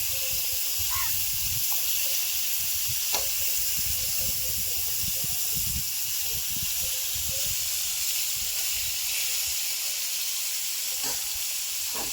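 Pointed gourd frying in a pan gives a steady, loud sizzle and hiss throughout, with a few faint scrapes from stirring and no talk.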